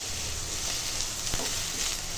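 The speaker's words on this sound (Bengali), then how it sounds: "এখন আলুটা ভেজে নেব।" Potatoes fry in hot oil in a pan for aloo posto, giving a continuous close, even sizzle with a single small tap midway.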